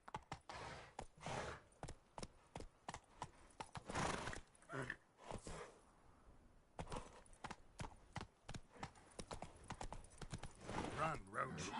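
A horse in The Witcher 3 gallops with fast clip-clopping hooves that speed up and slow down, along with neighs and snorts, under game voices and player chatter.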